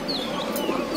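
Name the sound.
pigeons cooing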